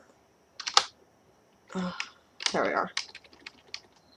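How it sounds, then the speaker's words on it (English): Short bursts of keystrokes on a computer keyboard as a network command is typed, clicking in quick clusters with pauses between, close and clear, with a brief spoken phrase near the end. "you need to type in IP config"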